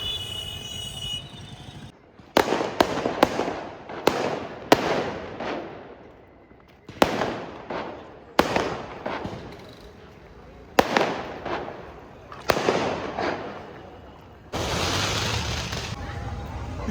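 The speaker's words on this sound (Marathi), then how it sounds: "फटाक्यांची आतिषबाजी सुद्धा सुरू आहे" Firecrackers and fireworks at a Gudi Padwa pre-celebration in Dombivli burst in a string of loud, sharp bangs, each one trailing off, followed by a sustained crackling roar near the end. A voice speaks faintly in the background.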